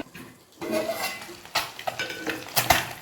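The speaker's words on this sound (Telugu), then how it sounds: "చూడండి సౌండ్ వినబడుతుందా ఇలా ఫ్రై చేసుకోవాలి" Eggs frying in hot oil in a pan for a tomato gravy roast egg masala curry, with a steady sizzle under clattering stirring and utensil knocks against the pan, several sharper clinks near the end.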